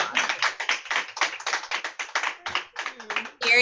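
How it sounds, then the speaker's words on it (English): Audience applause at a women's forum award presentation, close, uneven clapping from a few hands with irregular bursts, and a voice beginning to speak at the very end. "thanks for the applause"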